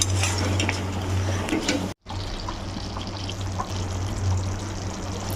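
Eggs dropped into a pot of simmering curry gravy give a steady bubbling, watery wash with a low hum beneath, broken by a brief dropout near the middle; no voices.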